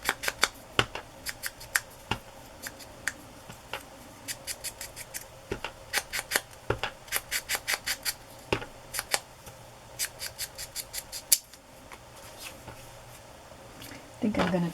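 Scissors snip a paper ticket being trimmed for an embroidered journal, in close, crisp bursts of rapid cuts separated by short pauses and quiet handling of paper.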